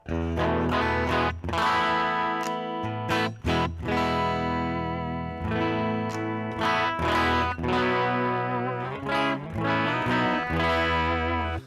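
Clean, bright electric guitar through single-coil pickups, Strat-like, played in strummed chords and picked notes, a twangy glassy tone with a light effect, steady and close with no talking.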